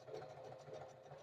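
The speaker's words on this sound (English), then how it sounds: "it's going to stitch in reverse, right?" A Singer 4423 heavy-duty sewing machine stitches in reverse, giving a steady, fairly quiet mechanical whir with a fast rhythmic chatter across the whole short moment.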